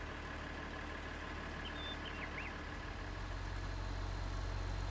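Tractor engine idling in the video game Farming Simulator 19, a steady, fairly weak low hum running unbroken under faint background noise, with a few brief high chirps midway.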